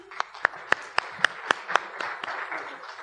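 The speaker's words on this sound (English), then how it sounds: "Big round of applause for Dean." Scattered audience claps at a storytelling talk, about eight distinct sharp claps in an uneven rhythm that swell into a brief soft patter of applause, moderately close, with no voices over them.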